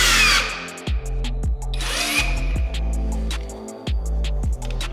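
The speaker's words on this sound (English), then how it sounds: "Pull and hold the trigger until the tightening sequence is completed" A Nutcracker PRO centerlock gun tightens a Porsche centerlock wheel nut, with loud whirring bursts and repeated hammering impacts that stop and restart several times, close up with no talk.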